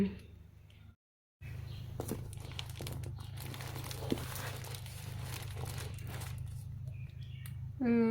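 Crinkling and rustling of packaging as a mailed box of plant bulbs for growing is unwrapped up close, a continuous papery crackle after a brief pause, with a voice briefly at the end.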